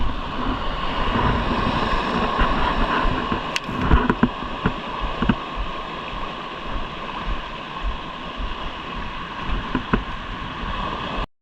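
Wind gusts across open sea on a small fishing boat, a continuous broad rushing noise with water lapping and scattered knocks and clicks of gear, and no one talks.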